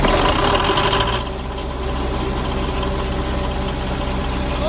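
Old oil-leaking vehicle engine running at a loud, rough idle up close, a steady low rumble that drops slightly in pitch after a second and then holds even.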